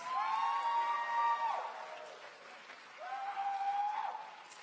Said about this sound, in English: So please give Anjali a round of applause.